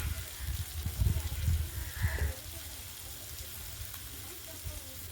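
Chicken fries in a pan with turmeric powder, making a continuous sizzle under some low stirring and scraping thumps early on. The sizzle then settles to an even hiss.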